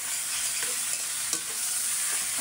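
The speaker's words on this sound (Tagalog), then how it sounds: "ilisa na po natin itong baka, sibuyas bawang muna" Beef sautéing with onion and garlic in a hot pan for caldereta, a steady broadband sizzle with occasional stirring scrapes, close and continuous with no talking.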